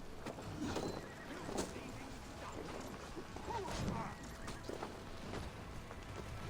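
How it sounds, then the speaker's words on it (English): Horse galloping in the video game Assassin's Creed Valhalla, steady clip-clop hoofbeats running continuously under game sound and voices, with a brief whinny-like call mixed in. "Run, horse, run!"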